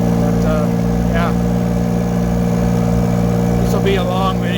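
A mini excavator engine idles steadily in snowy winter conditions, a loud continuous low drone with a few faint voices talking over it.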